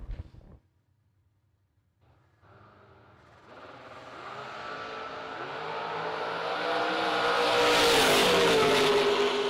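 A roadster and a hot rod drag racing at a strip, starting from near silence as engines build from a low idle to a loud, rising roar that peaks near the end.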